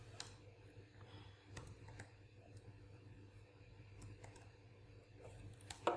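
Keystrokes on a computer keyboard while writing JavaScript code, heard as scattered faint clicks and taps over a low steady background hum, with no talking.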